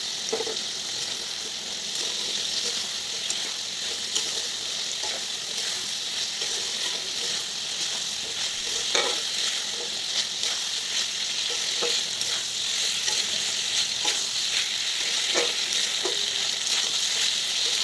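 A ground spice mix of coriander and salt with a green chilli is stir-fried in a pan, giving a continuous loud sizzle broken by repeated scraping stirs and spatula taps throughout.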